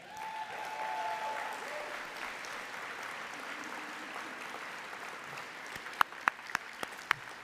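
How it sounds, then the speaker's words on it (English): An audience at a United Way of Summit & Medina community report event applauds to welcome a new leader, with a soft, steady wash of clapping and a few sharp, louder claps near the end. "so get ready for a round of applause, we have a dynamic new leader in Miss Annie McFadden"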